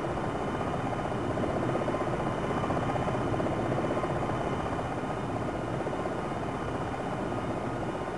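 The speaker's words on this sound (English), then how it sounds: "Reducing collective too much will cause the helicopter to sink like a rock." Helicopter rotor and engine noise from the Jane's Longbow 2 flight simulator, with Black Hawk, Kiowa and Longbow Apache aircraft, a constant dense broadband whir with a faint rhythmic beat, steady throughout and without voices.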